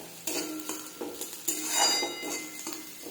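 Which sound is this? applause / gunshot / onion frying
onion frying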